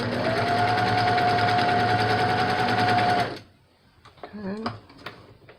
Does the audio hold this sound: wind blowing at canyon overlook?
no